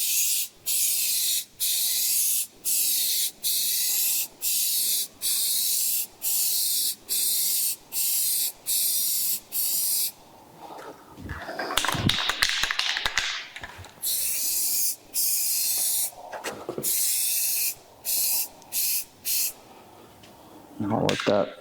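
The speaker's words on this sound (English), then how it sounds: "So we'll start with a thin coat, again spraying from all angles." Aerosol engine enamel hisses onto car wheels in a long series of short, regular bursts, each about half a second, then a longer irregular stretch of spraying with a few final quick bursts, close and loud.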